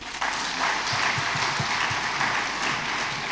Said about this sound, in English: a big round of applause for the Vice President